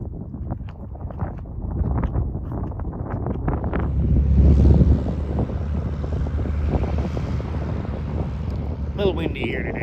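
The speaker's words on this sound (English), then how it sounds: "A little windy here today." Strong wind buffeting the microphone outdoors at an airfield near a carbon-fiber Cirrus SR22T airplane, a loud, rumbling roar that swells midway and then settles, with someone speaking through it.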